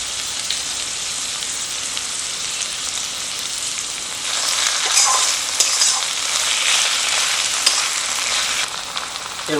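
Chopped tomatoes fry in a pan for a village-style Kadaknath chicken curry, a loud, continuous close sizzle with scraping stirring that swells partway through, and no voices.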